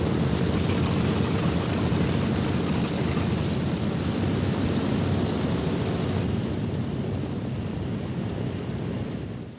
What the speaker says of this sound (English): Only the roaring engine sound of the bombers pounding through the quiet English countryside.